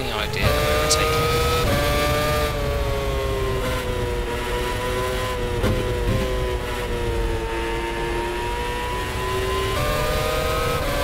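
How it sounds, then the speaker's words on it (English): Race car at the French Grand Prix accelerating out of the last turn, its high-pitched engine note holding loud and close with steady rising and falling harmonics throughout, under a commentator talking. "Congo Toei is straight on the gas at the exit of the last turn Lychee"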